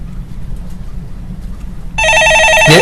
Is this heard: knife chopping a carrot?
no